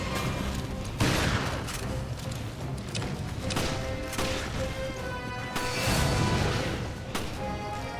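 Shotgun blasts in the Resident Evil Revelations video game ring out among dense combat noise, a sharp loud report near the one-second mark and more heavy shots and crashes through a continuous, cluttered battle din.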